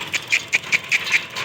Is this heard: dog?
yes